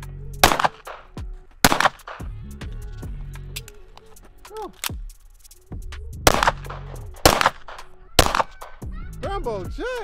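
Gunfire from pistol and rifle drills, with several sharp reports spaced through the stretch, some in quick pairs. Voices and shouting run between the shots.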